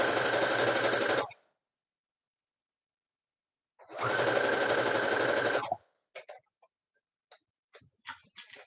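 A sewing machine stitches fabric for a pink bunny beanie in two separate runs of close, even whirring with silence between them, then a few quiet scattered clicks and handling taps.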